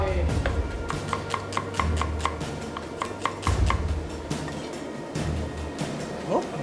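A knife chops onion on a board in quick, even taps, a steady run of about a dozen cuts followed by a few looser strikes, close and clear, with talking and kitchen clatter around it.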